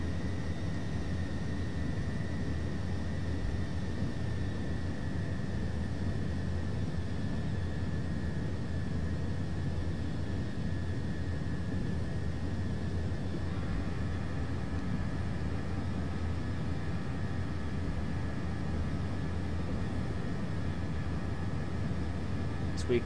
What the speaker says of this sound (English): We quickly taxi to the gate here.